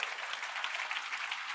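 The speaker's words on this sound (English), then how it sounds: "Shall we give Rayne a big round of applause?" A crowd gives a round of applause at an evening talk in Singapore, a dense steady wash of many hands clapping at an even level with no voices over it.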